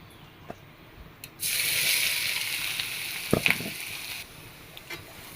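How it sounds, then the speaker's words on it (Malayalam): Ground coconut sautéing in melted ghee in a pan for pineapple halva, a steady hiss of frying rising suddenly and holding for a few seconds, with a couple of soft stirring clinks before it fades back down. "ഇതൊന്ന് നെയ്യിലൊന്ന് നന്നായിട്ട് വഴറ്റിയെടുത്തു."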